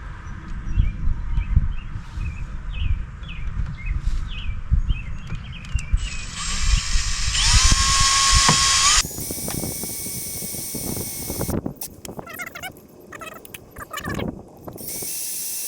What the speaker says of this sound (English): now we're going to drill the second hole